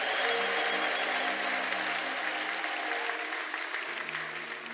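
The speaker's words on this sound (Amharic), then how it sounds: "እስቲ ለጌታ ክብር አጨብጭቡ" A church congregation claps for the Lord during worship singing, steady dense applause filling the room, with a sustained musical tone beneath it that shifts pitch near the end.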